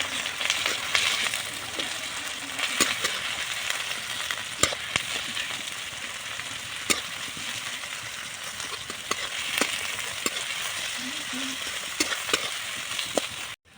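Sliced onions, about 500 grams, frying in mustard oil with chicken for a country chicken and potato curry, giving a steady close sizzle broken by the scrape of a stirring spoon.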